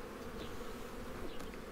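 Honey bees buzz steadily at an opened apiary hive during an inspection, a dense, close, continuous hum of many insects with no pauses.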